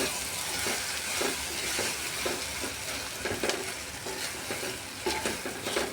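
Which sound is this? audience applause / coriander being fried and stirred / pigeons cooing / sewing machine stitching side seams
coriander being fried and stirred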